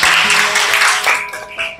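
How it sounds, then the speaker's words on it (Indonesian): An audience applauds a student named Lina at a teacher's gathering, giving a brief, dense burst of clapping that holds steady for about two seconds and is heard close. "tepuk tangan dulu dong untuk Mbak Lina"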